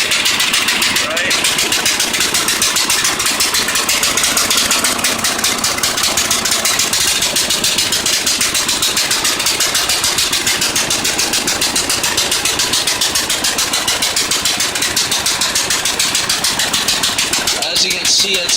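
An off-road lawn mower engine with a cut exhaust runs loud and close, a steady rapid rattling idle that holds evenly throughout and gets a sharp flare near the end.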